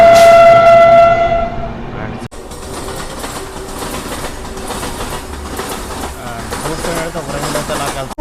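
A train from SMVT Bengaluru arrives, sounding a loud horn for about two seconds before cutting to a continuous close rolling rumble and wheel clatter, with a voice talking faintly over it.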